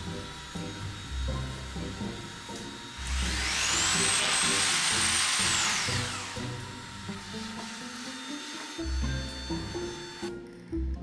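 A power drill whines at high pitch for a few seconds, drilling holes in a wall, spinning up and winding down, with background music, clatter and a 3D printer running nearby.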